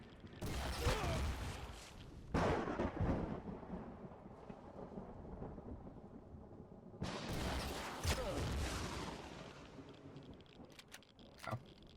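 Gunfire in the Empyrion Galactic video game, heavy booming blasts with long rumbling tails, one early, one around two seconds and a big one near seven seconds, over a low mechanical background with no talk.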